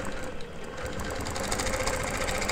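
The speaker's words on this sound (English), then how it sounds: "I am pulling the machine towards me gently" A domestic sewing machine stitches during free-motion quilting with a wave ruler, giving a steady, close mechanical whirr with a rapid needle rhythm and no pauses.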